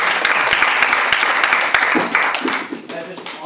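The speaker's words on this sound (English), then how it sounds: "Yeah, you can clap now." An audience claps during a performance demonstration, a loud burst of close applause that thins and fades toward the end as a voice starts talking.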